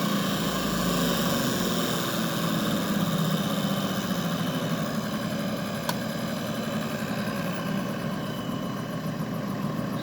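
A car engine settling back to idle after revving during an ignition timing check, a steady close drone with a brief spike partway through and no talk.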